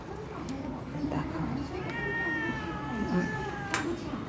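A house cat lets out a drawn-out meow over a busy background while people chat nearby.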